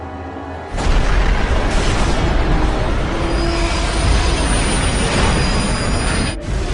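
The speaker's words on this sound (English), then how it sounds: "The trains collide like 2 charging rams." A loud, sustained roar of heavy metal and rumbling impact fills the clip, starting abruptly after a quieter moment, as two trains collide head-on and the crash grinds on.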